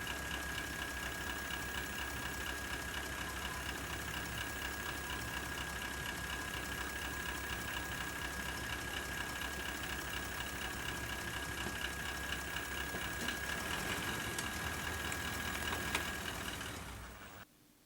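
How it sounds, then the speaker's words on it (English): A Toyota Land Cruiser 200 engine idles steadily, close and even-toned with a thin high whine, during an automatic transmission fluid flush, cutting off abruptly at the end. "Then start the engine and move the gear lever through all the gears"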